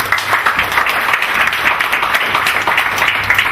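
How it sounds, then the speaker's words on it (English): A crowd of audience members claps loudly and steadily, a close, dense rattle of many hands that holds for several seconds with a slight rhythmic pulse. "So let's clap for everyone together."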